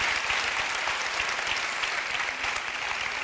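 On a TV talk show, a studio audience applauds with a thick, continuous wash of clapping. It is loud and even from start to finish, with no talking over it.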